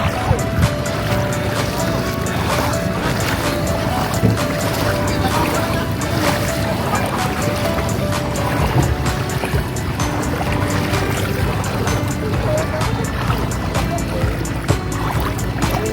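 A boat motor drones steadily on open water while island hopping in Siargao, loud and constant, with wind and splashing mixed in and faint voices underneath.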